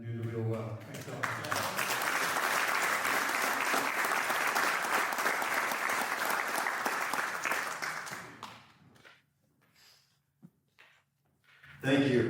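A lecture audience applauds an incoming speaker at an ancient Egyptian alchemy talk. The loud, sustained clapping lasts about eight seconds, then fades to a few stray claps before a voice returns near the end.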